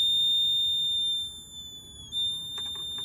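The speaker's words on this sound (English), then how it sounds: "when power supplied, the buzzer makes a loud noise" A loud, steady high-pitched buzzer tone driven by an RC phase-shift oscillator sounds continuously, dipping briefly midway before resuming, with a few faint clicks near the end.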